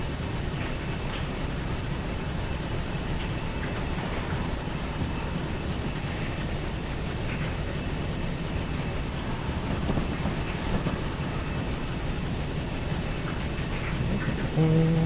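Simulated steam locomotive 3440 City of Truro on the Paddington to Reading run in Train Simulator 2013, a steady rolling rumble with soft rhythmic rail clatter, continuous and moderately loud throughout with no voices.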